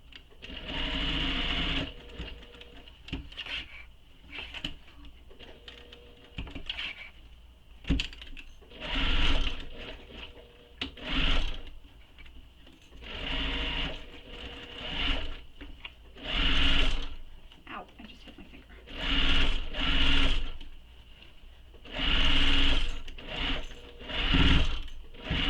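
Sewing machine stitching fabric for a mini messenger bag, running in repeated bursts of a few seconds each with short pauses between, close and clear with no talking.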